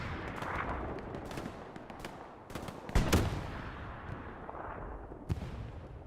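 Gunfire and tank shots in Hell Let Loose during a competitive match, a distant rumble of scattered shots and heavy booms, with one louder blast near the middle, and no talk over it.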